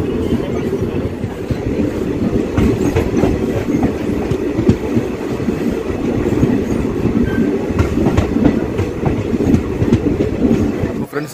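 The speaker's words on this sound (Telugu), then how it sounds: "మకాజీపల్లి రైల్వే స్టేషన్ డిపార్చర్ చూడండి" A DEMU train leaving Makajipalli railway station on the Hindupur–Guntakal line gives off a steady rumble with rhythmic wheel clatter on the rails that carries on throughout.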